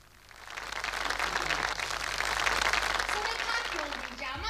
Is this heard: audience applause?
yes